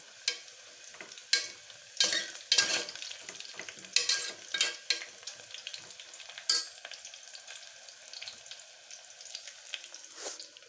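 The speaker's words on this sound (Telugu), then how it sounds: "ఉల్లిపాయ ముక్కలు వేగినాయి" Sliced onions and two green chillies fry in oil inside a pressure cooker, a constant soft sizzle punctuated by frequent clacking stirs and scrapes of a spoon against the pot, close and uneven in rhythm.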